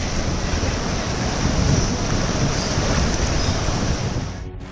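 High-tide waves crashing along Marine Drive in Mumbai during heavy rain, a constant loud roar of surf and wind with no pauses.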